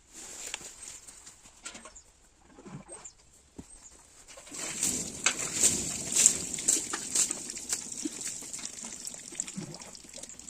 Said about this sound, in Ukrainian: змиваємо водою.